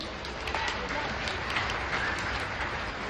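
An audience claps in a dense, continuous patter while voices talk over the applause.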